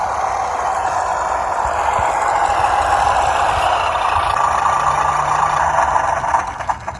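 Simulated engine idle from a RES-V3 electronic sound kit on a WPL RC trail truck, a steady synthetic rumbling hum held loud and even for several seconds before tapering off near the end.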